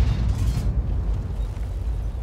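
A GW Panther artillery gun fires in a tank video game, a loud, deep booming blast at the start that trails into a low, rumbling decay, with no voices.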